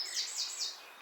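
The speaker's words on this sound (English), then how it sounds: "There's birds here. As you can hear," Birds chirp outside an abandoned farmhouse: three quick, repeated bright calls close together, fairly faint and alone with no other sound.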